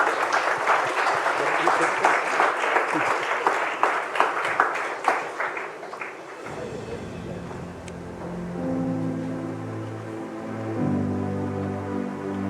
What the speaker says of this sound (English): a big round of applause for Arpita Singh